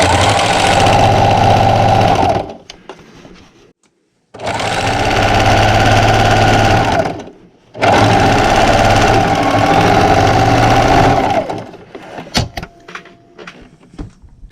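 Sewing machine stitching slowly along thick flannel rag quilt seams, three long loud runs of steady motor whir separated by short pauses, followed by faint handling clicks.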